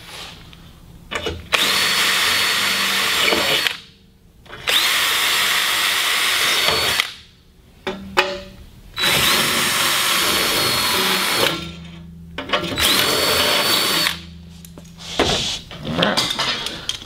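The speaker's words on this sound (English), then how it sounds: "we're gonna go through now, drill these holes real quick" A power drill drilling holes in metal wing spill plates runs in several long bursts separated by short pauses, whirring loudly and close with a metallic grinding edge.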